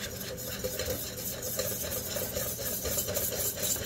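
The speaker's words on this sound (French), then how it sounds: "Fait que vous mélangez le tout." A spoon stirs brownie batter as half a cup of boiling water is mixed in, making soft, repetitive scraping and sloshing strokes at a low, close-up level.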